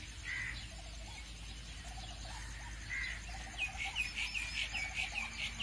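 Cartoon ducks and chickens clamour for food, a run of squawking, clucking calls that starts sparse and grows into a rapid, busier burst near the end, with no talk over it.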